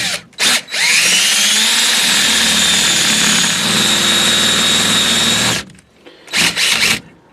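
Power drill boring into a boat trailer frame, one loud, close, steady whine lasting about five seconds, set between short revving bursts, with no talk.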